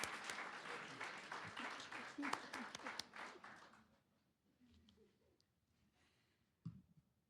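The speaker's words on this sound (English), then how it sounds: "Please give him a huge round of applause." Applause at a sobriety court awards ceremony, a crowd clapping loudly for about three seconds before tapering off to near quiet, followed by faint murmurs and one brief thump.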